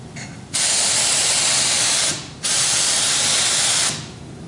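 A 3M Accuspray spray gun sprays onto a repair in two long, loud hissing passes of about one and a half seconds each, with brief pauses between them and no talking.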